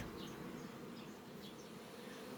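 A steady, dense buzzing of many honeybees at a hive during a lime-tree nectar flow, continuous and close, with no voices over it.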